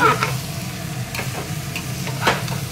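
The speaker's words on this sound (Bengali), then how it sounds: "এখন সবগুলো দিয়ে সুন্দর করে আমি নেড়েচেড়ে" Rice, lentils and vegetables for khichuri are stirred in a pressure cooker with hot oil. A steady, close sizzle runs throughout, broken by a few sharp scrapes of the spoon.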